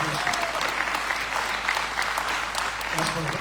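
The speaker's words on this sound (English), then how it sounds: "put your hands together and give my old Prince a clap" An audience claps for a horse at the 60th anniversary Tom Quilty endurance ride presentation, producing steady, dense applause of moderate loudness with a voice faintly over it.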